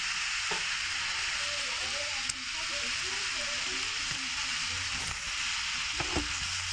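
Raw tamarind pieces cook in boiling sugar syrup in a pan, giving a soft, steady bubbling hiss close by, dotted with a few sharp clicks as pieces are dropped in.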